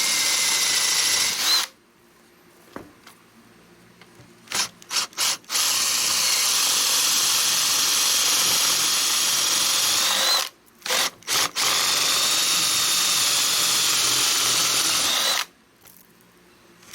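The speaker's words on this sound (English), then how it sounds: "I want to drill straight as I can." A power drill bores a hole while building a sluice box, loud sustained whirring broken into several long runs with short pauses and quick stop-start trigger blips, close by and without talk.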